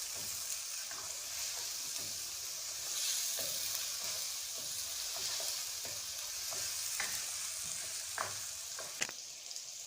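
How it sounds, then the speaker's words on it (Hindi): Chopped onion and peeled tomatoes sauté in a pan for chicken and peas curry, giving a soft, steady sizzle with scattered clicks and scrapes of stirring. It is faint and close, with no talking. "प्याज को थोड़ा सा सौते करके तो अब मैं इसमें जो है वो टमाटर शामिल कर देती।"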